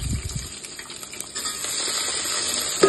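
Onions and curry leaves fry in a pan with a steady, close sizzle and a faint clink near the start, with no voices.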